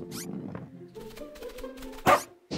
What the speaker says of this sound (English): Is that a puppy? I love puppies!